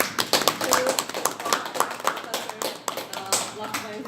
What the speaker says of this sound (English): Let's give him a big clap for